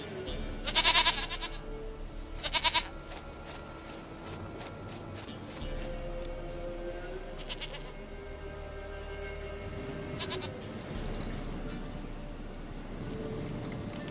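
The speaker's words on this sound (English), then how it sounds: "Goat of mine, dearest, sweetest goat." Goat bleats from The Witcher 3 video game, two short loud calls near the start and fainter ones later, over a low rainy ambient background with no talking.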